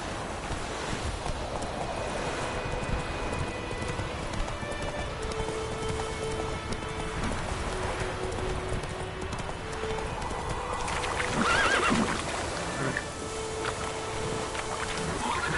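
Roach, a horse in The Witcher 3, gallops in a steady rhythmic clip-clop of hooves over rain and ambient noise, with a brief neigh rising near the end.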